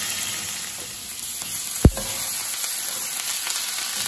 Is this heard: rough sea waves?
no